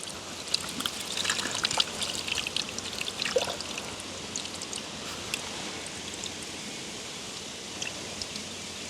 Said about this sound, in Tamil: பிணைஞ்சு வச்சுருக்கிற புளியை விடுவோம்